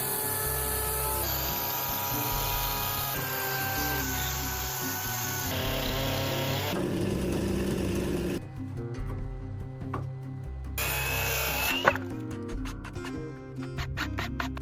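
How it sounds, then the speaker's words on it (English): A chainsaw whines steadily as it cuts wood for a cabin's door frame in a forest, its high motor pitch shifting with load, the sawing continuous and close throughout. "The wood is being cut straight and accurately using a chainsaw"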